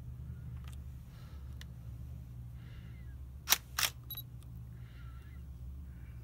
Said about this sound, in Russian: срабатывает звуковой сигнал